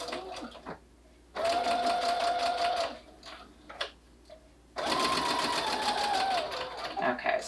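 Domestic sewing machine stitching a fabric face cover in two bursts, each with a steady whirring hum lasting a couple of seconds, separated by pauses with faint handling noises and quiet speech.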